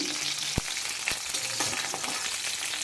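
Green chillies fry in a hot pan for vegetable pulao, giving a loud, steady crackling sizzle with a few sharp clicks of a spoon against the pan.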